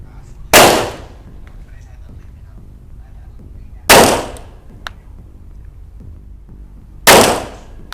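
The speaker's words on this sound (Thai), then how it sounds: "ยิง5 นัดนะครับกับตัวเซฟเทคนะเราดูนะครับ" Three sharp, loud pistol shots from a ZEV OZ9 handgun, spaced a few seconds apart, each with a brief ringing tail over a quiet background.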